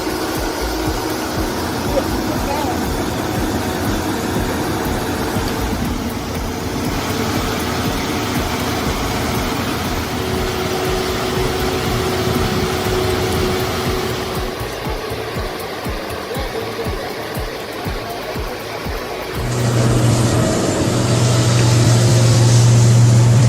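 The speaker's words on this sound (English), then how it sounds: "Ever heard the roar of a Komatsu PC 700? It's not just any excavator." The diesel engine of a Komatsu PC 700 excavator roars at a worksite with a loud, continuous rumble. The pitch shifts partway through, and near the end the engine revs higher under load.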